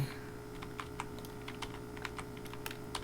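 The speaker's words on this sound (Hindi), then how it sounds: "यहाँ पर हम लोग कुछ इस प्रकार से टाइप कर लिए।" Keys clatter on a computer keyboard in quick, irregular bursts of taps, close and fairly quiet over a faint steady room hum, with no voices.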